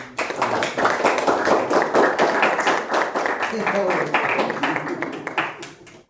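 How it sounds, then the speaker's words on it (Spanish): Applause from students at the end of an introductory anthropology class: a small group clapping with distinct, close, rapid claps that hold steady, then thin out and stop. "un aplauso, por favor"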